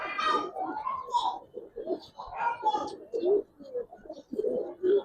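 Coloured Giribaz pigeons in a loft coo and call close by, a series of throaty rolling coos and short bursts repeating through the clip with little pause.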